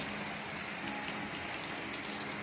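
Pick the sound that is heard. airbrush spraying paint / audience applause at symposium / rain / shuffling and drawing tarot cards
rain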